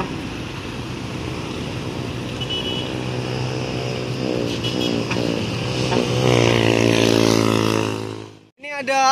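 An NPM night bus from the Virkansa 42 fleet rolls past on the Sumatra east-coast highway, its engine a steady low drone that swells as it nears and then cuts off abruptly near the end, with voices talking over it.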